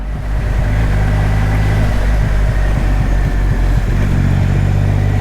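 Triumph Rocket 3R motorcycle engine heard close and loud as it is shifted down through the gears, a continuous deep growl with brief pulses and dips in the exhaust note.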